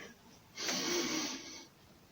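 One long audible inhalation during a guided breathing exercise, a soft breathy rush lasting about a second against a quiet, faintly noisy room.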